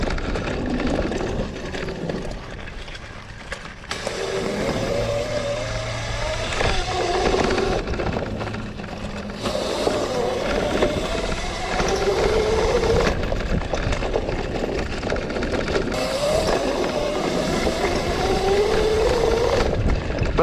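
A Razor SX500 electric scooter converted to 76 volts whines steadily and rises in pitch as it accelerates, loud and continuous with wind noise throughout.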